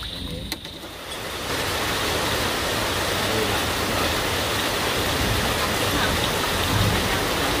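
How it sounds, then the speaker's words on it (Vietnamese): Steady rain falls at night, building after a brief faint knock into a dense, even hiss of drops on surfaces that continues at moderate loudness to the end. "Trời mưa rồi cả nhà."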